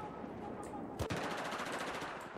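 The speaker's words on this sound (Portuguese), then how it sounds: "é pior que só de eu clicar, ela recarrega e atira" Gunfire in the video game Battlefield 1, one sharp shot followed by a fast rattling burst, fairly quiet over a steady game background.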